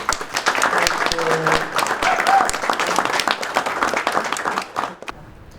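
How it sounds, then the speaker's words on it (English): Audience applause at a student union election results announcement, dense clapping for about five seconds before breaking off abruptly, with faint voices mixed in. "give those that stood for this election a round of applause, please."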